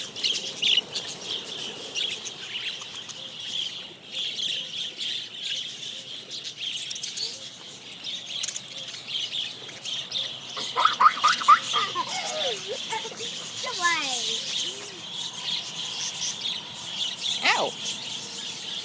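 Budgies chirp and chatter steadily in an aviary at a zoo in Gulf Breeze, a dense, continuous twittering with a few louder calls, while people talk intermittently nearby.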